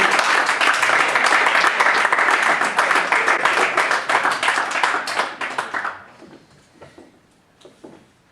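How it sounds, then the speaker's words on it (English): An audience claps loudly for a student leadership speaker at a Northern Virginia event: thick, close applause holds for about six seconds, then quickly fades to a few scattered claps. "Every man should be clapping."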